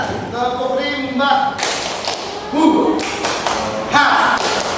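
Teachers in a group session perform the tepuk rimba rhythmic clapping game, sharp claps and thumps in bursts mixed with voices chanting and talking over them.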